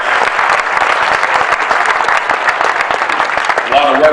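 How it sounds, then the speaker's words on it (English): An audience at a Passaic County Commissioner meeting applauds with a dense, steady roar of clapping that continues throughout, and a voice comes in briefly at the end. "Let's give our clerk to the board, Lou Imhoff, and his staff a great round of applause"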